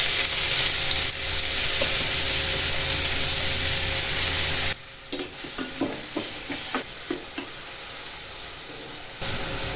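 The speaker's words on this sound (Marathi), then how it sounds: "तर मोहरी तडतडली, कांदा टाकून देते." Onion tossed into hot oil with crackled mustard seeds in a kadhai hisses in a loud, continuous sizzle, then quiets into a softer fry punctuated by a regular series of stirring scrapes.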